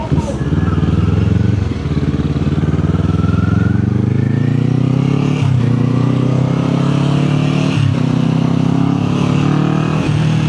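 Steady Kawasaki Z400 motorcycle engine drone while riding, loud and continuous, with pitch slowly rising and shifting as the bike changes speed.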